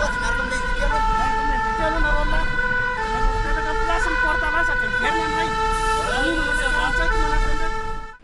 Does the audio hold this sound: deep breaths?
no